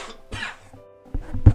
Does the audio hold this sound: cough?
yes